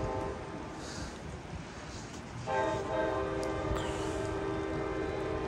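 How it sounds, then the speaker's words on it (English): An Amtrak Capitol Corridor cab car sounds its horn while passing through Oakland Jack London Square station on a rainy day, a sustained multi-note chord entering midway over steady rumbling rail noise and rain hiss. "You can hear that cab car horn going by."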